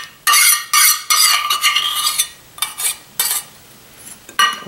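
Melted butter is stirred into a pumpkin cinnamon roll mixture, heard as a series of short scraping, clinking strokes of a utensil against a bowl in irregular bursts, close and clear with brief pauses between.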